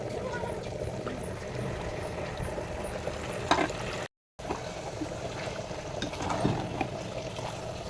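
Green masala paste frying in ghee for a ghee roast chicken fry, a steady soft sizzle and bubbling running throughout under a voice talking.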